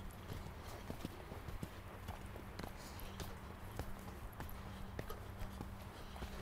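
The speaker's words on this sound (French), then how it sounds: "on a un cheval qui avance pas suffisamment" Hooves of a ridden horse clip-clop in a steady, even rhythm on firm ground, faint and a little distant against a low background hum.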